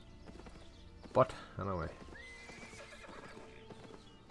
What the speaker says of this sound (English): I'm gonna get the horse back up.